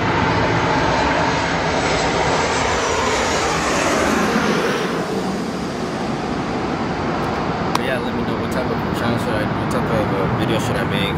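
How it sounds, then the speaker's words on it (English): An airplane flies overhead, its engine a loud, steady roar that fills the whole stretch and slowly shifts in tone as it passes. "There's another plane."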